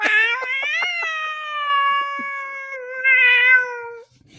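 A cat gives one long, drawn-out meow that wavers and rises again near the end, close and clear against near silence.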